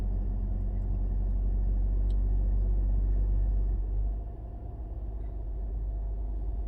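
A car's engine idles in park during a first driving lesson, a steady low rumble that holds evenly and then dips slightly in level partway through, close and continuous with no talk.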